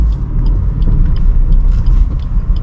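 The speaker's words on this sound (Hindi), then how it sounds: "हाफ क्लच छोड़ा, एक्सीलेटर" A car in first gear pulls away as the half-clutch is released and the accelerator pressed, the steering turned fully right: a low, close engine rumble that swells unevenly, with no voices.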